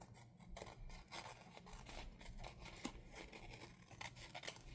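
Scissors snip and rasp through washi tape on paper at a craft table for a junk journal, a dense run of close, quiet cutting and crinkling sounds.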